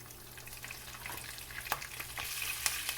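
Curry leaves and split urad dal frying in hot oil, a soft steady sizzle with faint crackles and a few sharper pops, close by and alone.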